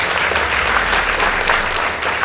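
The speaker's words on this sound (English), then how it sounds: "Please give them a round of applause." Audience at a high school girls' debate competition clapping after results are announced, a loud, continuous burst of many hands close by, even and sustained throughout.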